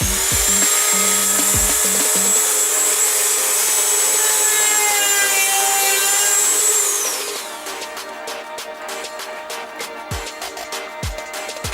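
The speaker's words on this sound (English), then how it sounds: "I'm going to take it out a little bit and try to sand it down a little bit" A drilled hole in a Womet-Tech CBR600RR frame slider from TST Industries is sanded down: a loud, high rotary whine winds down, then gives way to a series of close, repeated rasping strokes.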